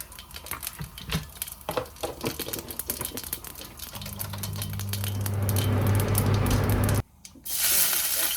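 Mustard and fennel seeds hit hot oil for prawn thokku, first crackling and popping in irregular bursts, then swelling into a loud continuous hiss before cutting briefly and resuming.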